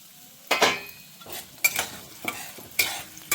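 Split dried red chillies dropped into hot oil for a tempering in an Indian kitchen, giving a run of sharp sizzling bursts with spoon stirring and pan clinks, each burst flaring up then settling into a low crackle.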